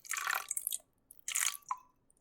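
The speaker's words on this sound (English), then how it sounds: "Add a bit more water." Water is added to a homemade fake snow mixture: two soft, wet splashing bursts with a small drip at the end, faint and close, with no talk.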